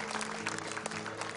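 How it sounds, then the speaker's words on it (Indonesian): Applause from the audience at a semifinal round of an Indonesian televised Quran recitation competition, a steady, moderately faint wash of clapping through the whole moment, with a low steady tone beneath it. "Ya boleh tepuk tangan sekali lagi untuk Hasna Garut."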